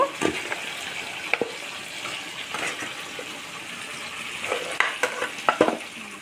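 Duck curry meat, Bengali style, sizzles and is stirred in hot spiced oil, a soft continuous frying hiss broken by scraping clicks of a spoon against the pan.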